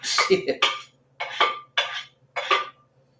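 A cooking utensil being washed in a kitchen, heard as a series of short clattering knocks in four or five distinct bursts, close and fairly loud, with no voices.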